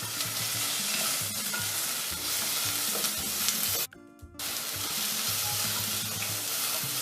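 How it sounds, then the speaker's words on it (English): Sliced onion and garlic fry in a pan for a green sauce, giving a loud, steady sizzle with stirring scrapes and one brief drop in the hiss partway through. "add my onion and garlic, the sliced onion and garlic."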